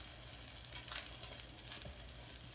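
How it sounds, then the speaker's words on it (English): Pizza dough frying in oil in a cast iron pan gives a steady, dense sizzle that hisses evenly throughout at moderate loudness, with no talking. "It's cooking already on the oil, and that's kind of the idea."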